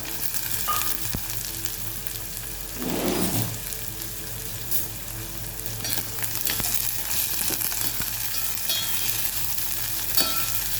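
Chopped onions fry in oil tempered with mustard seeds and cumin, a steady close sizzle with occasional stirring scrapes and a brief louder crackling burst near the start, continuing without speech.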